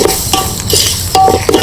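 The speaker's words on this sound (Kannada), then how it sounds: "ಶುಂಠಿ ಬೆಳ್ಳುಳ್ಳಿ ಪೇಸ್ಟು ಕ್ಲೀನಾಗಿ ಫ್ರೈ ಆಗಿದೆ" Ginger-garlic paste fries in a hot pan for village-style chicken dum biryani, a steady close sizzle broken by a few short scraping stirs of a spoon against the pan, with no talking.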